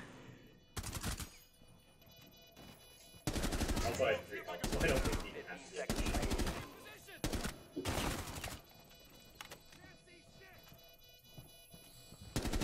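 Bursts of automatic gunfire in the tactical shooter game Rainbow Six Siege, several loud rapid volleys separated by short pauses, with players talking and laughing over the shots.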